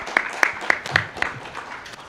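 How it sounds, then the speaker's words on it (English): Brief, sparse hand clapping at a Web3 conference sounds like a few people giving a short, evenly paced round of applause nearby. "I'd like to give a round of applause to these guys"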